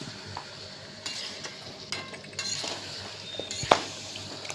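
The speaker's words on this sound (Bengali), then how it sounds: "মশলাটার সঙ্গে গ্রেভিটার সঙ্গে একদম মাখিয়ে নিতে হবে। ভালো করে মিশিয়ে নাড়াচাড়া দিয়ে মিশিয়ে নিতে হবে।" A spoon stirs chicken curry with its masala and gravy in a pan, scraping and sizzling softly, with a few louder clinks and scrapes near the end and no talking.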